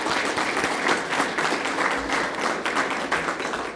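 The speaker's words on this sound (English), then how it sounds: "how about a nice round of applause for TCU Place staff" A room full of people at a conference dinner applauds, dense steady clapping throughout the short stretch with no pauses.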